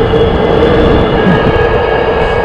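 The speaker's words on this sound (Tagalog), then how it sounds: "Mga modelo na yung mga tren na yan." A passing light rail train near Othello Station in Seattle, a loud continuous rumble and roar with steady tonal whine, close by and filling the whole stretch without talk.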